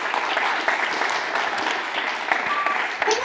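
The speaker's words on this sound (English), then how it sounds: "A round of applause once again for Girls Tonatec Racing." Audience applause for the Girls Tonatec Racing team at the F1 in Schools World Finals awards show, a steady dense wash of clapping with faint voices mixed in.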